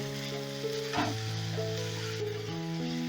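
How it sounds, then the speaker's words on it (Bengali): Tomatoes salted and stirred in a hot pan for a dhaba-style chicken bharta sizzle steadily, with a brief louder burst of frying as they are turned, close and without talk. "এবার টমেটোটা নরম হওয়া পর্যন্ত আমি নেড়ে যাব"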